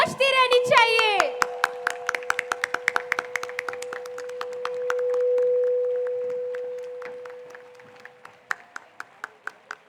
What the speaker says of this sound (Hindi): इनके लिए भी तालियां बजती रहनी चाहिए.